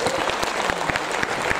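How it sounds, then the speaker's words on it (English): An audience at a social media marketing conference gives a speaker another round of applause, a brief steady burst of clapping with a few sharper near claps, with no voices over it. "Would you mind giving another big round of applause to Malini?"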